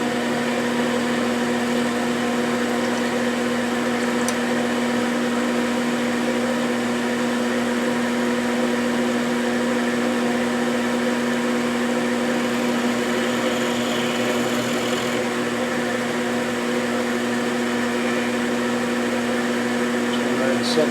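A Hamilton 6-inch lathe running at a steady pitch, its motor and gearing giving a constant tonal drone with a faint rattling undertone throughout, close up with no pauses.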